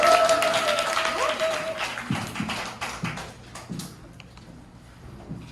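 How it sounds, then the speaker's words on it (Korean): Audience at a company lecture seminar applauds to welcome a speaker, clapping fairly loud at first and thinning into scattered claps, with a brief tonal ring early on and faint voices underneath. "큰 박수로 환영 부탁드립니다."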